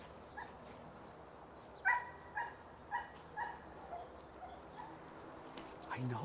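A German Shepherd gives a series of short, spaced barks and yips, moderately close, with whimpering tones between them in a quiet indoor space.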